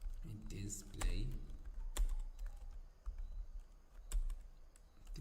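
Fingers tap out Java code on a computer keyboard, a quiet run of uneven clicks and key presses close by, with a few brief voice sounds mixed in.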